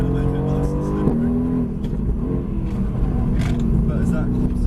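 A Mercedes AMG GTS drives on a wet track, its engine revving and shifting through gears up close from inside the cabin while people talk over the steady roar.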